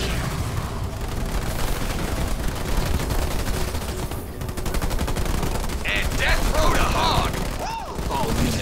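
Weapon fire from units in the strategy game Halo Wars 2, a dense continuous clatter of gunfire and mechanical battle noise, fairly loud and steady, with occasional brief voice lines and effects near the end.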